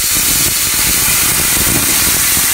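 Washed Gobindobhog rice dropped into a pot of boiling milk for payesh, a loud, steady, close steam-like hiss and bubbling roar filling the whole moment without pause.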